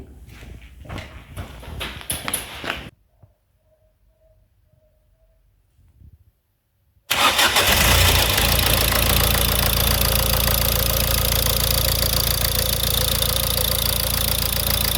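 A repaired diesel engine sits silent after some faint handling clicks, then fires at once and keeps running loud and steady, close up, until the end.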